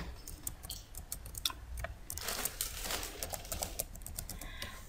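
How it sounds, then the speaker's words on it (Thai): Rapid, steady keystrokes on a computer keyboard patter on for about five seconds, quiet and close, with no voices over them. "เราก็เริ่มพิมพ์พัทยาก่อนค่ะ"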